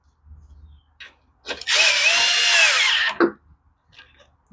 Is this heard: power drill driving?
yes